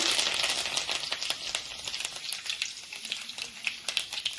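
Onions, green chilies and curry leaves fry in a pan over cumin, mustard seeds and lentils, giving a bright, dense crackle with quick spitting pops throughout, close and fairly soft, with no voices.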